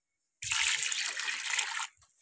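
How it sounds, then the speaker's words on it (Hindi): Water pours into a cooking pot of rice with chicken, tamarind and dried plums for chicken pulao, a steady close splashing stream of about one and a half seconds that stops abruptly. "अब जितने चावल थे ना उसके हिसाब से पानी इसमें ऐड करेंगे।"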